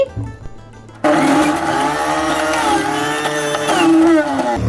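A blender whirring cucumbers into juice kicks on after a second of quiet and runs loud and steady, its whine shifting slightly as the pieces break down.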